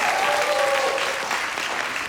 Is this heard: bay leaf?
no